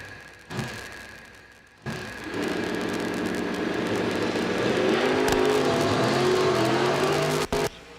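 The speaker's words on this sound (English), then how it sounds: "we got a drag race going on here" Drag race cars, a Beretta among them, launch and roar down the strip at an end-of-year drag racing event, a loud sustained engine howl building steadily with a sharp thump near the end.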